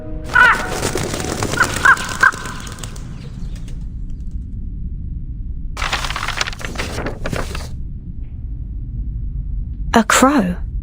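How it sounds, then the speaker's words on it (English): Crow cawing in the video game Reverse 1999: a few sharp, loud caws rise at the start and again near the end, with a stretch of quiet in between. "A crow?"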